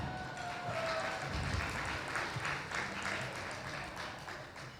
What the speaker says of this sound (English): please give this single lady a round of applause